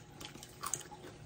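Crunchy galunggong fish bones being chewed and bitten up close, a quick series of soft crunches and moist chewing sounds with no talk.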